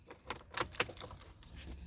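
Keys jangling and clinking close by as a key is turned in the ignition of a 2015-or-later Ford F150 pickup, a quick series of metallic rattles and taps, faint and without talk.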